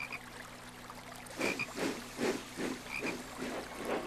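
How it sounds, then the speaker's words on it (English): A green frog croaks beside a babbling brook, giving a series of loud, evenly spaced croaks over a steady low background with no voices. "he is very surprised to see a frog, a beautiful green frog. Toby can hear it too."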